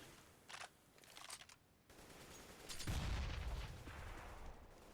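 Bursts of rifle gunfire in Counter-Strike on the Inferno map, with a short volley, a second cluster of shots, then a heavier boom-like burst with rumbling low end, all fairly loud and close with no talk.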